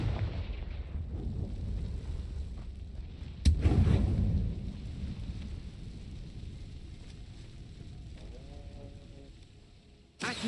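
A Confringo fire spell in Hogwarts Legacy bursts into a sudden explosion midway, after a low rumbling wind-like roar, then fades into a quieter hum before a second sharp burst at the end.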